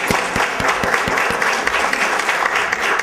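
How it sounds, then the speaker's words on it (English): An audience applauding, a dense steady burst of many hands clapping that fills the whole stretch, with a few distinct low thumps early on and faint voices mixed beneath. "give a big round of applause for Professor Goldblatt"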